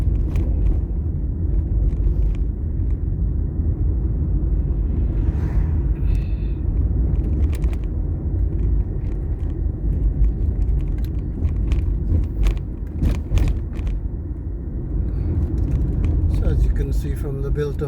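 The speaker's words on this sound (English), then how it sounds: "So unfortunately there's a lot of traffic behind me" Steady road rumble inside a car driving through a Halifax village, engine and tyre noise filling the background with a few knocks and clicks, while someone talks throughout.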